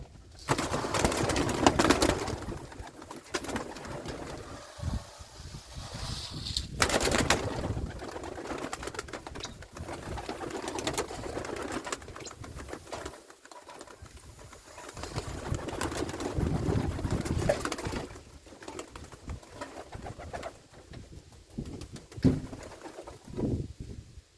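Yellow Czech show pigeons in a new loft coo steadily, with overlapping throaty calls near and far and occasional wing flutters and shuffling throughout.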